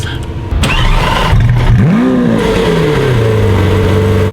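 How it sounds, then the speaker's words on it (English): A 2018 Lamborghini Aventador S revs hard and pulls away from the factory, its loud engine note sweeping up and down through gear changes before settling into a steady, close drone. "Driving out of the Lamborghini factory in what is nearly a brand new Aventador S"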